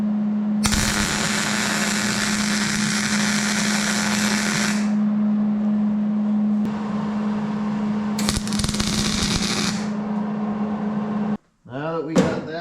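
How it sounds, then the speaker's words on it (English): An arc welder fuses a chain tensioner bracket on a mini bike, a loud crackling hiss in two long close bursts over a steady electrical hum, then an abrupt stop with brief speech at the end. "So we're gonna go ahead and weld that up"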